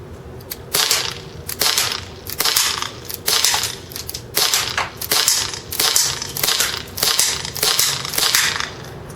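A TSD M1911 CO2 airsoft pistol fires a steady series of about a dozen sharp, close shots with impacts on a headshot target 50 feet away, each crack evenly spaced and loud.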